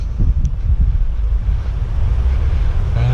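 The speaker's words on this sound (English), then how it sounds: "It was windy." Strong wind buffets the microphone beside the sea, with a rough low rumble of waves and gusts filling the whole stretch.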